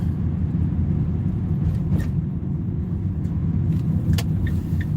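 A truck engine rumbles steadily as the vehicle drives along, a dense low drone filling the whole stretch with faint higher clicks and rattles above it and no talk.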